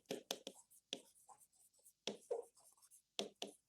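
A pen or marker writes on a board during a chemistry lesson, with short scratchy strokes in irregular bursts separated by pauses, close and fairly quiet.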